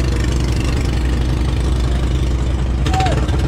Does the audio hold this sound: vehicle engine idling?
yes